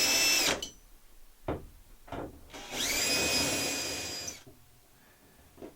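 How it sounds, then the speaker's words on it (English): Power drill with a self-centering bit boring two pilot holes for cabinet door hinges, heard as two sharp whining bursts, the second longer, with clicks and short handling noises between them and no talk. "use a self-centering drill bit to bore two pilot holes"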